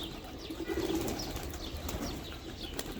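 Young pigeons practise their wings, with soft flutters and short flapping bursts mixed with faint coos, heard close and fairly quiet, with no talking.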